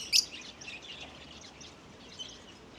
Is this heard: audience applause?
no